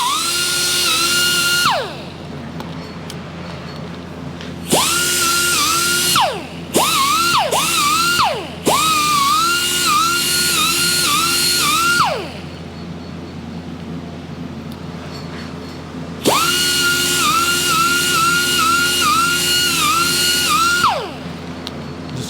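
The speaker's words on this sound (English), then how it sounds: "we'll just take the grinder and smooth those out" A grinder smooths wrinkles on a Suzuki TS-250 motorcycle seat during a rebuild, spinning up in several loud, close bursts of steady whine, with a quick stuttering run of short blips in the middle and a long final pass.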